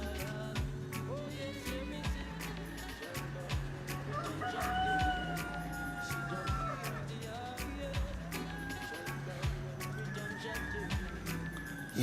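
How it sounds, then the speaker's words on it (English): Roosters crow repeatedly outdoors, drawn-out calls rising and falling at moderate distance, with other fowl clucking and someone talking over them throughout. "The roosters that I'm going off, they're actually crowing away every time I'm live."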